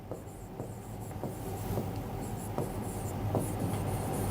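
Chalk or marker writing on a board during a heat transfer engineering lecture, a steady scratchy rubbing with a few sharper taps, close and fairly quiet over a faint low hum.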